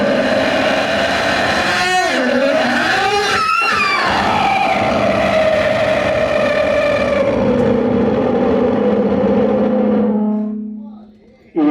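A performer at a short film awards event vocally imitates an aeroplane taking off, a loud continuous voiced roar with rising and falling sweeps that swells and sustains before cutting off abruptly near the end.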